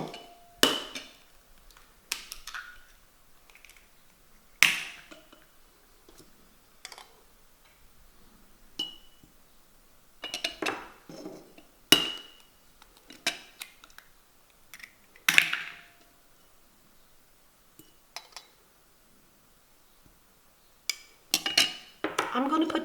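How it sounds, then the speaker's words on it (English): Eggs crack against a bowl in a kitchen, heard as scattered sharp taps and clinks separated by quiet pauses, with faint speech in between. "we go crack the eggs"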